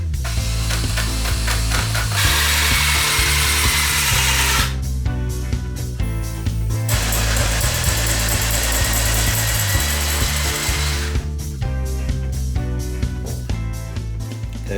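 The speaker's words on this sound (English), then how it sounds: "I've just drilled an outer hole and tried to straighten up that inner hole" Power drill boring a hole into scrap wood, a loud close whine in two long sustained bursts broken by clattery pauses and short spurts, running continuously with no talk.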